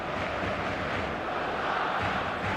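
Stadium crowd noise in the game eFootball, a constant dense roar of many voices, loud and unbroken throughout.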